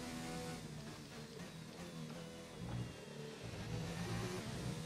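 Formula 1 car engine in the F1 2019 racing game at the Australian circuit, a continuous high-pitched revving whine that rises and shifts with gear changes, loud and steady throughout with no talk.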